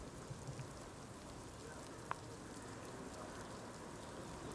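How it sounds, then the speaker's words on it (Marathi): Steady rain falling over central Pune, a soft continuous hiss of drops filling the scene evenly, with one brief sharp click partway through. "मध्यवर्ती भागात संतधार पावसाने हजेरी लावलेली आहे"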